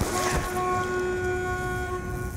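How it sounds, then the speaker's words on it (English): Bus honking in the Black Ops 3 Zombies Transit video game, a loud sustained multi-tone horn blast held steadily over rumbling background noise, with no talk. "Man, the bus is honking."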